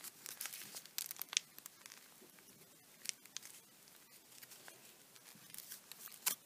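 Paper folded by hand into an origami five-headed crane, with an inside reverse fold on a flap: close, soft crinkling and rustling that runs steadily throughout, with small crisp crackles.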